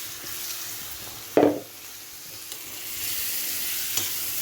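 Zucchini tossed into hot pepper paste with garlic lands with one sharp burst of sizzling, then settles into a steady, close frying hiss with a couple of light utensil taps.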